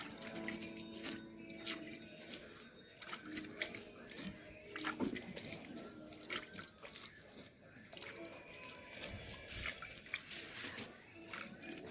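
Water poured by hand into freshly chopped goat fodder, a close splashing and trickling stream with uneven wet bursts that runs throughout, with faint voices in the background.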